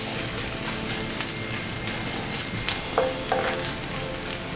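Onion and garlic fry in a pan with a steady broadband sizzle, broken by a few soft scrapes and knocks of stirring, close and continuous, with no voices.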